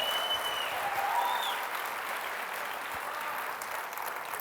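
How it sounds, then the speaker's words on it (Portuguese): A church congregation applauds during a sermon, broad steady clapping heard at a moderate distance that holds evenly with faint whistles and cheers, then softens slightly toward the end. "Gente, aplaude com alegria."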